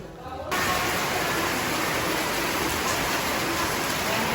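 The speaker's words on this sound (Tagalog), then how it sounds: "at bigla pong umulan ng malakas." After a brief quieter moment, heavy rain suddenly pours down, a loud, steady hiss of water drumming on surfaces.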